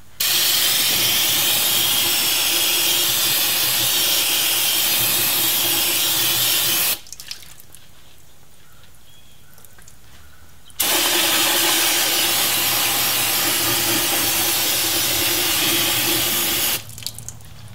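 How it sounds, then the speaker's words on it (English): Brake parts cleaner sprayed from a can onto a car differential during a fluid change, heard as two long, loud, close hissing bursts of about six to seven seconds each, split by a short quiet pause. "I'm just going to back up a little ways and hit it with the brake parts cleaner"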